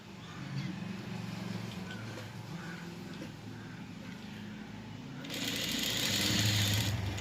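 Sewing machine running steadily while stitching a fabric mask closed, a continuous mechanical whir that grows louder and busier near the end.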